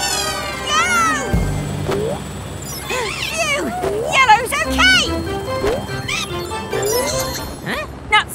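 A cartoon cat meows several times in a children's animated show about a garage, with bright music and playful character voices around it, the meows rising and falling clearly above the lively score.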